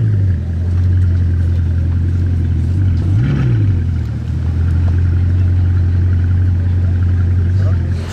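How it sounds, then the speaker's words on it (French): A Bugatti Chiron engine drones loudly and steadily nearby, with one brief rev rising and falling partway through. "elle vrombit vraiment fort celle-ci"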